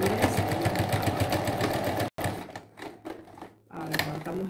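Sewing machine stitching in a replacement zipper, steady rapid mechanical clatter for about two seconds, then a brief pause and shorter stop-start bursts of stitching.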